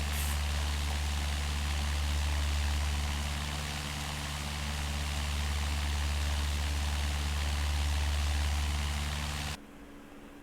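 Steady droning engine of a light aircraft in a flight simulator game during a flight from Area 51 toward Salt Lake City, a continuous low hum with broadband rush that cuts off abruptly near the end.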